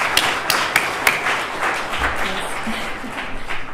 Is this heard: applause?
yes